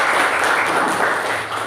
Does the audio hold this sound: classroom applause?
yes